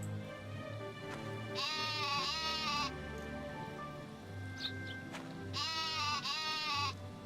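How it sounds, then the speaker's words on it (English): Sheep in the video game My Time at Portia bleat twice, a few seconds apart, each bleat long and wavering, over steady background game music with faint rain-like ambience. "Oh, we got fully grown sheep now."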